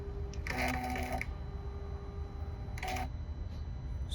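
A Furuno FE 700 echosounder's built-in printer (PP505) running at a ten-second interval gives two short bursts of mechanical buzzing and whirring, separated by a pause, against a steady low hum.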